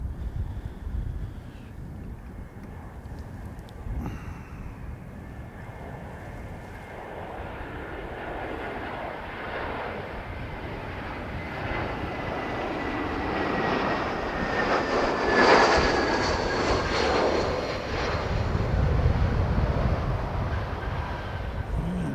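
A fixed-wing aircraft comes in to land, viewed from a mound on Harewood Road; its engine roar swells steadily from a distant rumble to a loud, broad rush near the end, with no talking.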